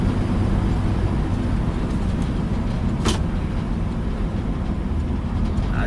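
Steady low engine drone and road rumble from a 1958 GMC Apache Fleetside pickup driving on UK roads, constant and close from inside the cab, with one brief higher whoosh midway.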